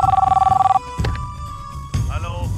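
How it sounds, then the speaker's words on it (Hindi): An electronic telephone bell rings in a rapid pulsing burst for under a second, then a low hum and scattered sounds follow in a dramatic film scene. "मुन्ना का फोन था"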